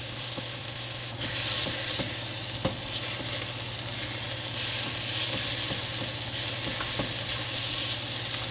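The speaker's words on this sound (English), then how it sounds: "I want to cook the vegetables down a little bit" Mushrooms, peppers and onion sizzle and fry in a hot pan, a steady, fairly quiet hiss with occasional faint clicks of stirring throughout.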